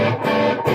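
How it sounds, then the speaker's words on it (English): A Hayden Mighty Mofo 5-watt tube guitar amp turned up to heavy distortion, loud, dense and saturated, with a brief dip before the fuzzy drive surges back. "It's just a gain monster, and it works just like a foot pedal, really, a distortion boss overdrive or something like that."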